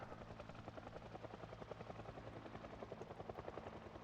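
A helicopter in the video game Project Zomboid thumps steadily overhead with a fast, even rotor chop, moderately distant and continuous, with no talking.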